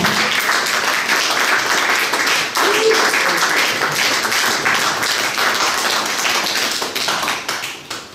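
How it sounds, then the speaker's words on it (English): An audience claps steadily for the legendary Mad Professor as he takes his seat at an evening event, a dense wash of hands that continues throughout, with a brief voice mixed in partway. "Keep clapping till he sits down."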